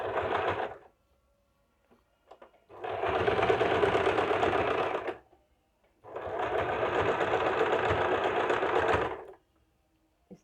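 A sewing machine stitches a princess-cut blouse, running in three separate bursts with quiet pauses between, the longer runs a steady close mechanical chatter of about two and three seconds each.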